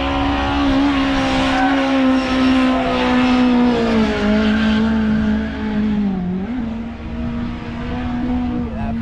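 A Ford Escort MK2 drifting sideways at Castle Combe circuit during a track day drift exhibition, its engine holding a loud, steady, high-revving note with shifting pitch throughout, briefly dipping midway before climbing again.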